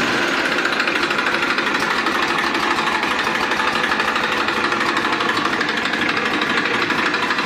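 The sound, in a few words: Massey Ferguson 1035 DI tractor engine starting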